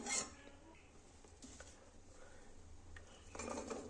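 Potatoes mixed into peas in a pan, giving soft utensil scrapes and clinks against the cookware, a burst at the start and another near the end, fairly quiet with no talking.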